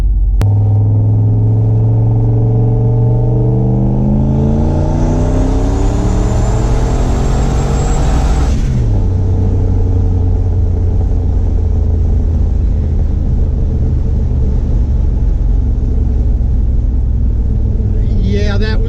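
Turbocharged LS-swapped Chevy C10 accelerating hard on 12 psi boost, engine note climbing steadily for several seconds and then dropping sharply as the throttle lifts, settling into a loud steady drone close by.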